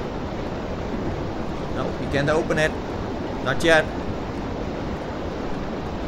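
Rushing water floods a sinking ship's corridors in a Titanic sinking simulator VR game, a steady broadband wash like surf that fills the whole clip, with two brief voiced bursts of talk rising above it.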